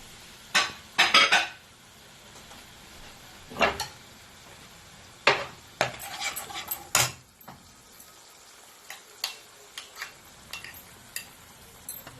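Spoon scraping and clinking against a pan while sour yogurt is stirred into a cashew paneer masala, with irregular sharp metallic knocks and scrapes spread over the clip and a faint sizzle beneath.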